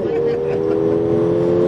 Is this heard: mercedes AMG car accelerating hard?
yes